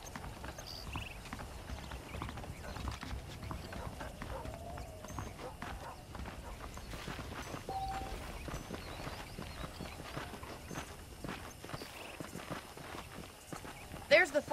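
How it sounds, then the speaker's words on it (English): Saddled horses' hooves clip-clop at a steady walking pace in a video game, faint and continuous, with a quiet ambient bed and an occasional snort near the end. "The horses are saddled up over here."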